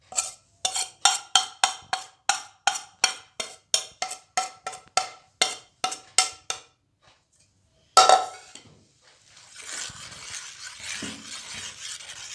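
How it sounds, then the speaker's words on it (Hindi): Ajwa date powder being stirred into warm honey with a spoon, a quick regular series of sharp scraping knocks against the bowl that stops, then a louder scrape and a softer rough rustling mix. "इसको अच्छी तरह मिक्स कर देंगे हम"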